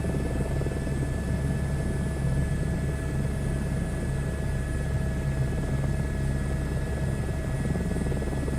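A helicopter in a flight simulator video game, flying over the UK, makes a steady, continuous rotor and engine drone with a constant tone and no pauses.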